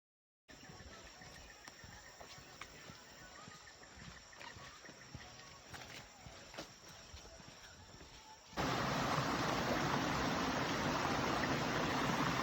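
A river stream flows at a crossing on a forest hike up Bukit Kutu near Kuala Kubu Bharu. A faint, steady wash of water gives way to a much louder, close rushing flow.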